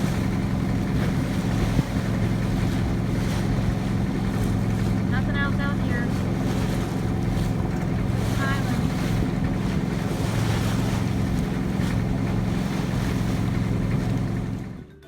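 A sailboat under way at sea off Isla Isabel, Mexico, with steady wind rush and water noise against the hull throughout, loud and continuous, with a couple of faint chirping tones in the middle.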